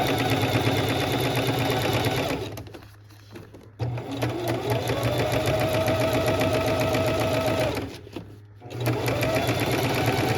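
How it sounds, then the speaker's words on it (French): A sewing machine topstitches along the edge of a fold while upcycling a reusable bag, running in a steady rapid mechanical hum and clatter with two brief pauses, close and clear, without speech. "Donc, je veux venir piquer sur le bord du pli ici à peut-être 2 mm."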